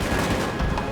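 Massed musket volleys from a Napoleon: Total War battle, a thick continuous crackle of distant rifle fire with low rumbling booms, steady and unbroken over a short stretch.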